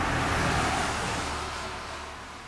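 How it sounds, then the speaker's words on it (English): Highway traffic drives by outside an old woodworking machinery shop, a steady broad roadway hiss that swells and then gradually fades, heard faintly from indoors without talk. "You probably hear the traffic out there driving by."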